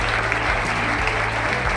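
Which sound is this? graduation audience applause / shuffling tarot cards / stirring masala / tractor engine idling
graduation audience applause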